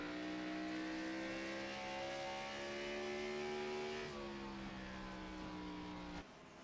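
A race car engine roars from an onboard view in iRacing during a Grand National Series oval race, a steady, droning tone held at high revs, then dropping slightly in pitch before easing off near the end.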